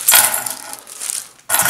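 Old coins are set down into a small hidden compartment in a handmade wooden piece of furniture, giving close, sharp metallic clinks at the start and again at the end with quieter rattling between.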